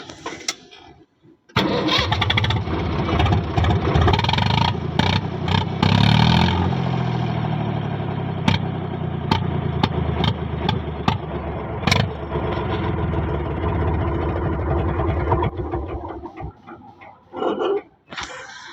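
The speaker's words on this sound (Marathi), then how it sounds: "सायलेन्सर तुटलेला आहे. ट्रॅक्टरचा आवाज सहित बदललेला आहे. आवाज दाखवतो, आवाज ट्रॅक्टरचा." A loud, rough tractor engine with a broken silencer rumbles and sputters close by for most of the clip, harsh and unmuffled, with revving surges before cutting off near the end.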